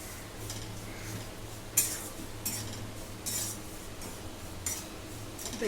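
A spoon clinks and scrapes against a dish while mixing ground coriander-cumin powder, chaat masala, salt and turmeric into fried chillies, several sharp taps spaced among quieter stirring, fairly faint and with no talking.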